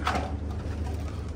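Pigeons cooing inside a rooftop loft tower, a steady low murmur of soft overlapping coos that stays close and continuous with no talk.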